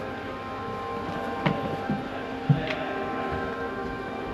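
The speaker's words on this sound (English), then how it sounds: "That's the tram." A low, steady rumble of a 1934 vintage tram running in a Blackpool workshop, with a couple of sharp clunks and rattles standing out against the continuous drone.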